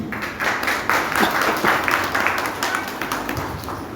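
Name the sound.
applause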